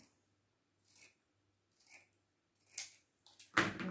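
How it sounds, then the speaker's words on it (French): Scissors cut through craft decoration material for an autumn DIY project, giving four short, quiet snips spaced about a second apart in a calm room, the last one louder and sharper. "On va découper ça."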